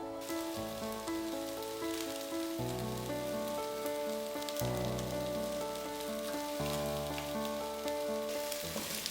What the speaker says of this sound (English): Add half the vegetables to the pan and fry for a couple of minutes